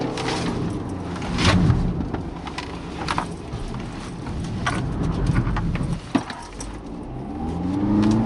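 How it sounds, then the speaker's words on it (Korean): A BMW X1 xDrive 20d is driven through a slalom, its diesel engine rumbling and surging as it weaves back and forth, with scattered clicks and knocks over the steady drone. "X1 타고 슬라롬 하겠습니다."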